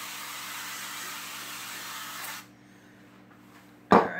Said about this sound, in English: I think I'm going to use avocado spray on this one, just to spray my pan a little bit